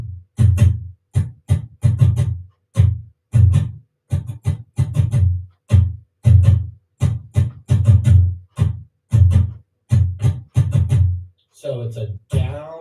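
A guitar is strummed in a down-up-down strum pattern, sharp, evenly spaced chord strokes repeating in a steady rhythm, close and clear, with a voice briefly at the end.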